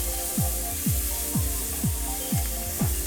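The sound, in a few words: prawns sautéing in hot oil for Singapore noodles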